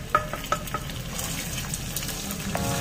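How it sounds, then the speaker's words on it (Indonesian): Pork liver fries in hot oil in a pan, a steady close sizzle with occasional light clicks and stirring taps. "lalu kita akan goreng dulu pork livernya ya, atau hati babinya"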